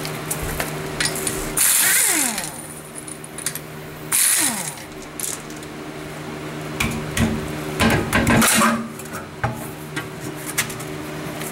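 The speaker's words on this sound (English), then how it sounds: "Remove the lug bolts with a 17 millimeter." Lug bolts being loosened with a 17 mm wrench on the rear wheel of a 2009 BMW 335i, giving repeated close ratcheting clicks and metallic clanks in bursts, with no talking.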